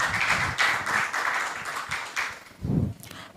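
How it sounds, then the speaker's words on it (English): Applause from a small audience at a Falling Walls Lab Ghana pitch event, a scattered burst of hand claps that builds, thins out and fades, heard nearby. "Please, can we give her a round of applause?"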